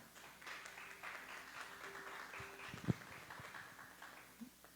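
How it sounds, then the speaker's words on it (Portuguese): A church congregation at a morning service claps in praise, a moderate, even patter of many hands with a single sharp thump partway through and faint background murmur. "Vamos receber louvando a Deus com as nossas palmas?"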